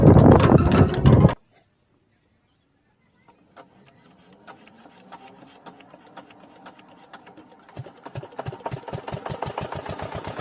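An irrigation pump engine runs beside a rice paddy field. It follows a loud burst and a short silence, starting faint and building into a steady, rhythmic chugging that grows louder and closer.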